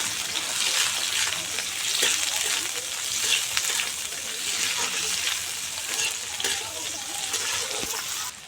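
Carrots, beans, chopped onion, tomato and green chili frying together in a pan for pasta, a continuous crackling sizzle with occasional stirring scrapes and light clinks.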